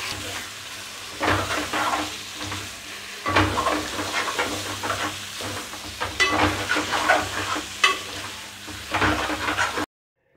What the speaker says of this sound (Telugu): మీడియం టు హై ఫ్లేమ్లో చికెన్ని 4-5 నిమిషాలు బాగా వేపుకున్నాము